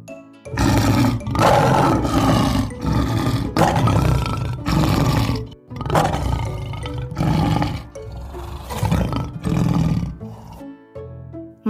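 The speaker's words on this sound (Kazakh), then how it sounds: "Бұл арыстан. Арыстан." A lion roars in a series of loud, deep bursts, about eight long roars separated by short gaps, close and dominant with no talking.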